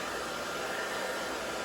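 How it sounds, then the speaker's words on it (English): Blow dryer running on its low setting while drying hair, a steady close whooshing airflow with no breaks or talk. "So it's on low, my blow dryer."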